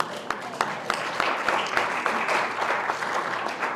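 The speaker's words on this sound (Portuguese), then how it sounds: "uma salva de palmas para todos nós" A crowd of speakers, moderators and university guests applauds at an Angolan independence anniversary event, steady dense clapping with a few sharper claps standing out, filling the whole stretch.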